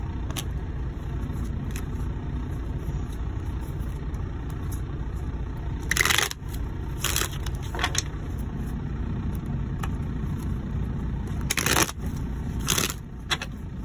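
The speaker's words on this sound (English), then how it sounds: "Oh, let me shuffle." Tarot cards are shuffled in several short, crisp riffling bursts, spaced a second or more apart, over a quiet background hum.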